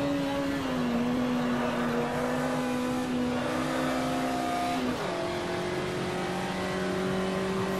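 Racing car engine in the sim game Automobilista, straining at high revs with a steady loud drone whose pitch holds, dips around a gear change near five seconds, then climbs again, alone without voices.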